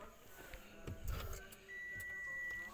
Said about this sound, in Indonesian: Kita coba starter. Oke, RPM naik.